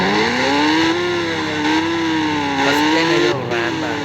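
A KTM RC motorcycle engine in the Indian Bike Driving 3D video game drones steadily with a loud synthetic tone whose pitch rises and dips slightly as the throttle shifts.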